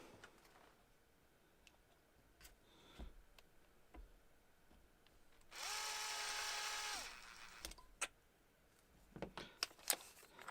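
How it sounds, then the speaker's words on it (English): A power drill whirs in a workshop, boring a pilot hole in a single steady burst of about a second and a half, surrounded by quiet bench clatter and small taps. "Just bring you back down so you can watch me drill"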